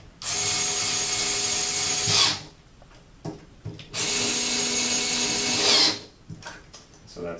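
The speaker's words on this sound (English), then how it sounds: "Electric screwdriver here." An electric screwdriver drives Phillips screws through the arms of a VESA mount bracket for a Gazepoint GP3 eye tracker. Two loud, close whirring bursts of about two seconds each, separated by a pause with light handling clicks.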